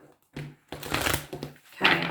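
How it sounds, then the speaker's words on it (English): Tarot cards shuffled by hand in bursts, a soft riffle and shuffle start, then a longer dense flurry of card flapping and sliding, ending in a brighter final riffle, close and fairly quiet. "Okay, one more shuffle."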